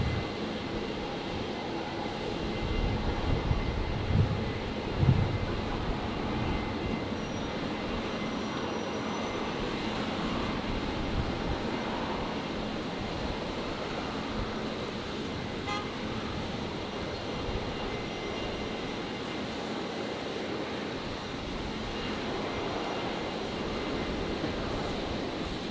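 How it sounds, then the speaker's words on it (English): A Dash 8 turboprop taxis in after landing on runway 19 right at Brisbane Airport, a steady, moderately distant engine drone with a brief louder bump early on and no talking. "There's the Dash 8 just arrived on 19 right, taxiing in"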